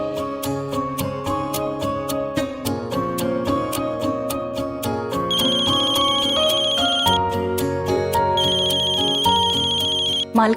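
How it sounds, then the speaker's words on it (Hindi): A telephone in a home drama rings with a repeating electronic tone that continues for the whole stretch, loud and close over soft background music. "मालकिन, ये मेघना जी का फोन आया है।"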